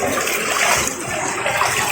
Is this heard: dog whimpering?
no